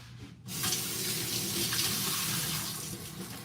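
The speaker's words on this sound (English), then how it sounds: "Put this in the sink, let it rinse out." Water runs steadily from a kitchen sink tap with cold water while rinsing during cooking prep, a continuous close splashing hiss that starts abruptly and holds for a few seconds.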